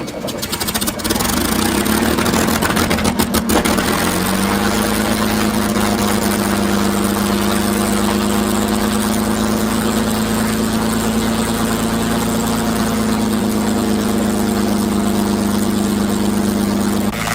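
A P-51 Mustang aircraft engine cranks with rapid choppy turns, catches after a few seconds and settles into a loud, steady, throbbing idle heard up close.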